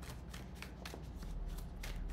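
Tarot cards shuffled by hand, a steady run of soft papery riffles and slaps repeating several times, close and fairly quiet, with no talking over them.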